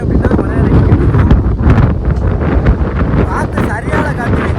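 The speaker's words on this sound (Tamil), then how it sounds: "காற்று சரியான காற்று, ஹெவியான ஒரு சூழ்நிலை அடிச்சுக்கிட்டு இருக்கு." Heavy wind at sea batters a deep-sea fishing boat on the Pacific Ocean as nets are lowered at sunset. Loud, gusting roar and microphone buffeting fill the whole stretch, with voices partly buried beneath.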